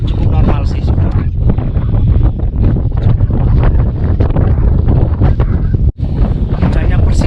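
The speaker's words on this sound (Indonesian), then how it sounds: "ya anginnya lagi angin cukup normal sih sebenarnya" Strong, steady wind buffets the microphone on the Bambangan route up Mount Slamet, a loud continuous roar with rustling gusts throughout and a brief dropout near the end.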